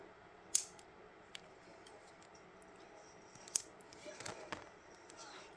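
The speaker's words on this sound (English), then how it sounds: "Good thing about nail clippers, I guess, is that they're good at taking these things off that are unwanted." Nail clippers snip plastic tabs off small toy figure accessories, two sharp close clicks a few seconds apart with faint handling rustles between them.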